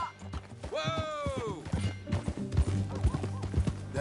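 In Red Dead Redemption 2, horse hooves clip-clop in a steady, close rhythm and a horse whinnies loudly near the start.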